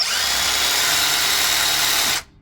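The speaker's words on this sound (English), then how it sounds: "Now I'm pushing at an angle with this drill." An electric drill grinds divots into metal while fitting a heater blower motor on a Mercedes-Benz W108/109, running steadily at full speed with a harsh, high grinding whine for about two seconds, then cutting off abruptly.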